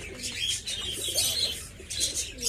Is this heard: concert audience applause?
no